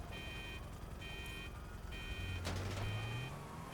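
A car alarm sounds in the GTA 5 video game, a loud electronic tone repeating in short pulses about once a second, joined near the end by a rising engine-like whine and traffic noise.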